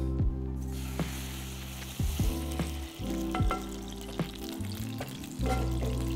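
Chili and garlic sizzle hard in a pan of oil as splashes of pasta water hit, a steady loud frying hiss broken by sharp crackles and stirring scrapes, with no voices.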